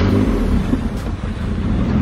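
A Chevy Malibu engine running after its first start, a close, loud, steady rumble with a slight rise and fall in revs, no talking over it.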